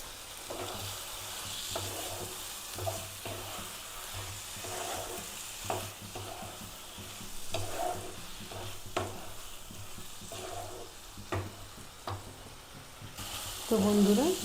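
Spice paste sautéing in a pan for an egg and cauliflower curry, with a continuous soft sizzle and regular scraping strokes of a spatula, rising louder near the end.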